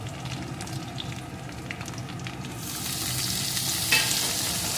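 Chopped tomato and potato sizzle and get stirred in a frying pan, a steady close hiss that grows louder and brighter partway through, with no talking.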